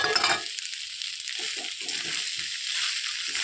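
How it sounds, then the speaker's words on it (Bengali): Mutton curry with spices and potatoes is stirred in a frying pan, with a soft steady sizzle and short scraping, sloshing strokes heard up close. "এবার এটাকে আমি ভালোভাবে কিছুক্ষণ ধরে নেড়ে নিব"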